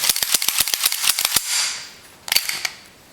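A Springfield Armory Loaded 1911 pistol gets a function check: a rapid series of sharp metallic clicks and snaps close up, a sliding rasp, then a few more crisp clicks after a short pause.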